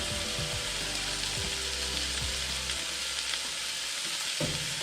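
A buttered hoagie bun toasts on a flat griddle for a Philly cheesesteak, giving a steady close sizzle and crackle with light scraping and clinking underneath; no one speaks.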